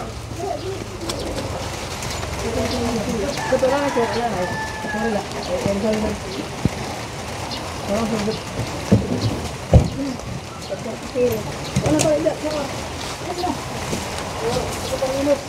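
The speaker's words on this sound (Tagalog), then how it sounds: "Ulan na." Steady rain hisses outdoors while doves coo repeatedly nearby. Occasional louder drips and knocks cut through, and faint voices murmur in the background.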